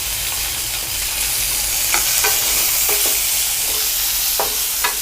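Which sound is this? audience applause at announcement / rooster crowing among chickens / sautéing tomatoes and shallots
sautéing tomatoes and shallots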